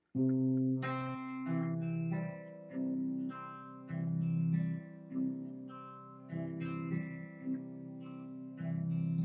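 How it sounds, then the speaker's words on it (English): The fingerpicked guitar intro of a song, plucked notes rolling in a steady repeating rhythm over sustained bass tones, close and clear with no talking. "finger picking style, you really want to not repeat finger usage too much"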